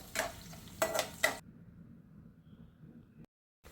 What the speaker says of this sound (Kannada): ಸೊ ಬಾಣಲಿಗೆ ಎಣ್ಣೆ, ಸಾಸಿವೆ, ಕರಿಬೇವು, ಹಾಗೆ ಮೆಣಸಿನ್ಕಾಯಿ, ಈರುಳ್ಳಿ, ಟೊಮೊಟೊ ಹಾಕಿ ಈಗ ನಾನು ಒಗ್ಗರಣೆ ಮಾಡ್ಕೊತಾ ಇದ್ದೀನಿ